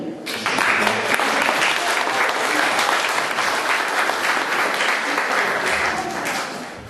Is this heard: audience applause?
yes